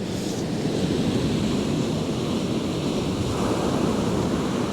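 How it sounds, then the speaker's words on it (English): Surf breaking on Happisburgh beach: a steady, loud wash of waves with continuous roar and some wind noise buffeting the microphone, no voices. "these waves are just getting me soaking"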